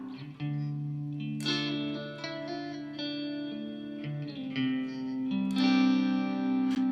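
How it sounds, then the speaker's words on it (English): Electric guitar through a Walrus Fundamental Reverb pedal on a plate setting, sustained chords and picked notes ringing into a smooth, lingering wash of reverb, played alone at a moderate level without talk. "I think a plate reverb just sitting in the background."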